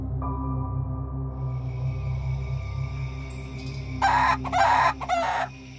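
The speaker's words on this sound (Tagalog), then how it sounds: "narinig na namin ang huni ng mga manok" Chickens cluck and a rooster crows in three loud bursts near the end, set against a steady low hum and droning background.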